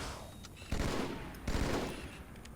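Plasma pistol and battle rifle fire in Halo 2 against a sword-wielding Elite: two loud, sharp energy bursts with rattling gunfire, each fading into a noisy tail.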